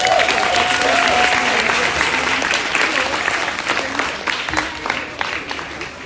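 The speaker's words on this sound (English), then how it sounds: "Can we give them a round of applause, please?" A crowd at a charter school meeting applauds loudly, a thick wash of clapping that slowly thins and fades over several seconds.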